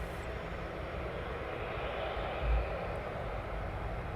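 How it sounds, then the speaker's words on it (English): A Boeing 757 taxiing for departure at East Midlands Airport gives a steady, fairly distant engine rumble and broadband roar that holds evenly throughout, with a brief low thump midway. "757 taxiing up for its departure"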